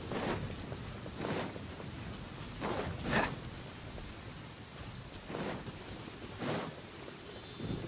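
Steady rain and rolling thunder in the Genshin Impact video game, a constant hiss of rainfall broken by several deep thunder rumbles and one sharper crack near the middle, with no talking.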